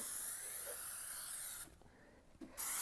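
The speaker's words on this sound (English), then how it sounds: "spray our spray adhesive all on the foam piece." Steady broadband hiss of an aerosol spray adhesive can coating a foam piece, continuous for about a second and a half, then a pause and a short fresh burst.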